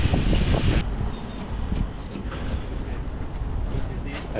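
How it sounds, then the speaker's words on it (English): Strong wind buffets a microphone on a fishing boat out at sea during a tuna catch, producing loud, continuous low rumbling gusts that fill the whole stretch. "we got a lot of wind here"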